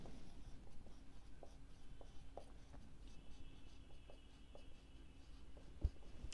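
Chalk or marker scratching steadily across a classroom board in short strokes, close and fairly quiet, with a faint background hum and a single sharp knock near the end.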